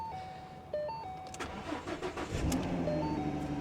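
A 2013 Chevrolet Camaro convertible with 73,000 miles turns over close by, a few electronic chime tones first, then its engine catches and settles into a steady, rumbling idle.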